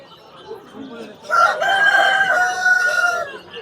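A rooster crows loudly and close by at a bird market in Margilan, Uzbekistan, after a few soft clucks, with chickens around and faint market noise behind.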